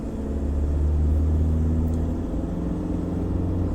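A 2021 Mitsubishi Triton Athlete pickup pulls away from inside the cabin with a steady low engine rumble and drone. The hum holds fairly loud and even throughout with no talk over it.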